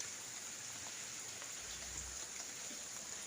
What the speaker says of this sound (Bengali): এই যে কি সুন্দর বৃষ্টি পড়ছে